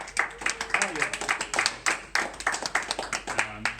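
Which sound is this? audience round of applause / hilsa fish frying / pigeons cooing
audience round of applause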